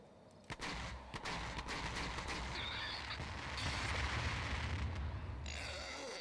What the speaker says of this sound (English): Oh, look, these are the fireworks.